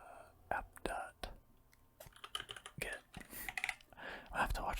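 Soft clicking of a computer keyboard during ASMR coding comes in quick irregular runs under close, hushed whispering.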